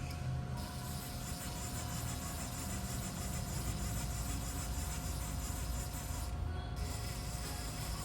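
A 2011 Haas TL-2 CNC toolroom lathe runs its axis back and forth with a faint, steady mechanical whine and hum, heard alone without talk.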